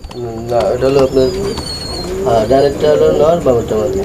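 Sirazi fancy pigeons in a loft coo in repeated throaty, rolling bursts, close and loud, with faint chirps overhead.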